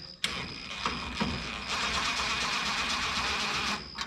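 Engine of a 1961 Chevrolet wagon starting: sharp clicks and brief cranking bursts, then the motor catches and settles into a steady, close idle hum lasting several seconds.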